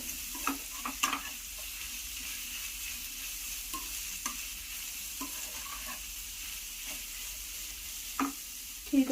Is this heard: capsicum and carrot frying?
yes